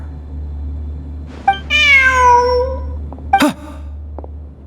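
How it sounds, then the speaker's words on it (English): A cat meows in the video game Genshin Impact: one clear, drawn-out, tonal meow over a steady low game-ambience hum, with a short interjection and a few soft clicks. "Look, a cat."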